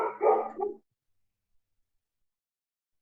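A dog gives a short burst of barks, close and fairly loud, then falls silent, with a faint start of another sound at the very end.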